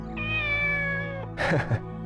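A cat meows in the Dreamcast game Shenmue: one long, drawn-out meow, then two short, sharper mews close together, clear and near with no talking.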